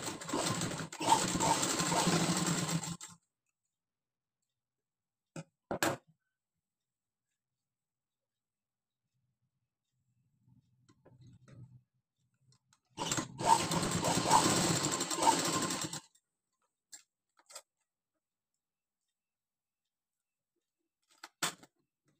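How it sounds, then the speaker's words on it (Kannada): Sewing machine double-stitching a baby girl's fancy blouse, two clear bursts of rapid stitching separated by quiet gaps with a few isolated clicks and a soft low hum between. "ಇದನ್ನು ಡಬಲ್ ಸ್ಟಿಚ್ ಹಾಕ್ಕೊಳ್ಳೋಣ."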